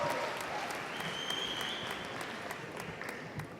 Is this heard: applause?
yes